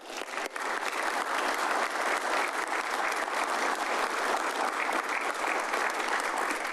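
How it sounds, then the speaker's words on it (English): Steady audience applause for a city police department at a city council meeting, a dense even wash of many hands clapping that holds at full strength throughout, with no voices over it. "So why don't we give them a round of applause?"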